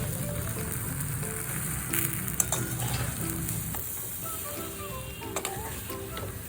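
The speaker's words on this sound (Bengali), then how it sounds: "এবার আঁচটা একদম লো করে আমি চিনিগুলো ভালো করে গলিয়ে নেব।" Sugar slowly melting over very low heat for a sweet raw mango pickle, giving a steady soft sizzle with occasional light stirring taps and scrapes against the pan.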